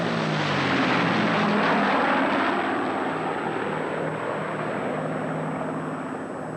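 Vintage propeller warbirds at an airshow, a Lancaster bomber with Spitfire and Hurricane fighters, make a loud, continuous engine drone and roar that swells slightly and then eases as they pass.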